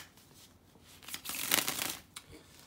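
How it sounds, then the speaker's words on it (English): A deck of tarot cards is riffled and shuffled close up, a papery flutter building to a brisk burst, then a soft tap. "And let me shuffle the cards."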